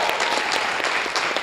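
Audience applause thanking the lighting and stage crew after a school show, dense steady clapping from a large crowd filling the whole moment.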